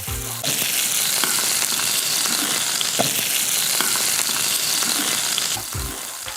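A thick steak sears in a hot pan with a steady, loud sizzle that fills the whole clip, with faint scrapes and pops over it and brief quieter moments at the start and end.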